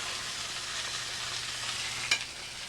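Pork frying in oil in a pan, giving a steady close hiss and sizzle that runs throughout, with a brief clatter near the end and a low background hum.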